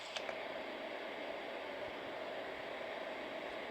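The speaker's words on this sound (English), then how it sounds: "Here is white noise." White noise from a small bedside sound machine, a flat, even hiss at low volume that stays constant throughout, with a brief click near the start.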